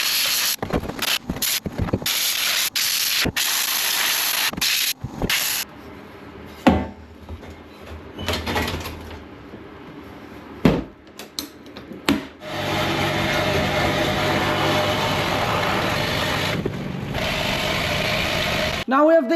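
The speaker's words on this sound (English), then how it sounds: "So this sandblaster I've made is doing a great job." Homemade sandblaster blasting rust off classic VW Beetle IRS suspension arms, harsh hissing bursts that start and stop repeatedly at first, then settle into a long steady rushing blast, close and loud.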